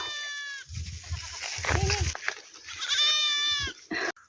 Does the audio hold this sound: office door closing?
no